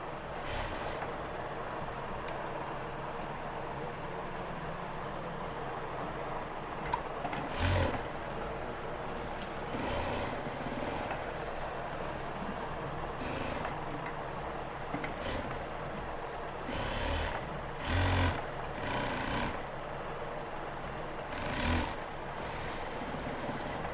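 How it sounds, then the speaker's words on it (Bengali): A sewing machine stitches elastic into the waistband of a boy's pajamas with a steady, fairly quiet mechanical whir, broken by repeated brief louder bursts of stitching. "তারপরে সেলাইটা দিয়ে গেলাম দিয়ে দিলাম রাবার"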